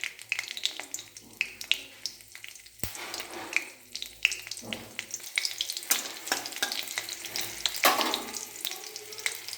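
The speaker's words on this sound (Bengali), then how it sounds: "দেখো বন্ধুরা, তেলটা এবার গরম হয়ে এসেছে। এর মধ্যে গোটা জিরে আর লঙ্কাটা দিয়ে দেব।" Whole cumin seeds and dried red chillies sizzle and crackle in hot oil, a dense spitting fry with sharp pops and stirring clatter, close and with no talking.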